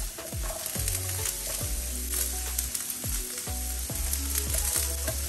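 Onions and trout sizzling in butter in a hot skillet, a loud continuous frying crackle with steady spitting and bubbling, close up and without talk.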